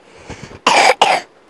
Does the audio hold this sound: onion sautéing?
no